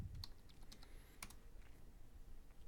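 Quiet, scattered taps on a computer keyboard, a handful of soft key clicks close by at low volume with no speech.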